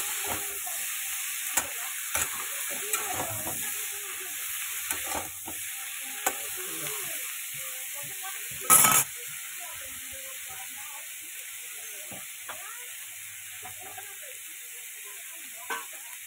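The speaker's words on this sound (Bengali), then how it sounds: "এই যে ভালো মতো সবজিগুলো আগে ভেজে নেব।" Mixed vegetables frying in a pan at home before spinach is added, a continuous soft sizzle and hiss with scattered stirring scrapes and one brief louder clatter midway, no talk.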